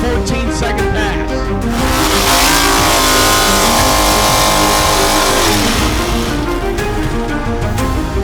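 A drag racing car makes a pass down the strip, its engine loud and close, revving and rising in pitch as it accelerates past, with speech faintly underneath.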